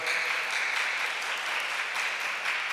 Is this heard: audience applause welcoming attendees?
yes